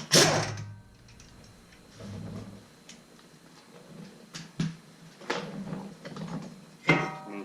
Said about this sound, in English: to be able to slide it off, you got to remove this screw right here